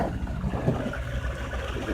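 A fishing boat's motor idles low and steady as it eases out from a lake launch on a grey, gloomy day, with a constant rumble and some wind noise.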